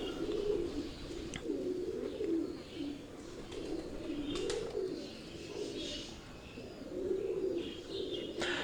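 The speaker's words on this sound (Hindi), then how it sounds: "तो दोस्तों ये जो कबूतर आप देख रहे हैं ये भट्ट साहब की ब्रीडिंग सेटअप में टेडी ब्रीड का कबूतर" Teddy breed pigeons coo steadily in a breeding setup, their low rolling calls repeating in soft waves throughout with faint chirps and clicks around them.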